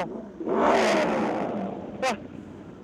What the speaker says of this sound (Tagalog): Ingay ng motor mo, bro.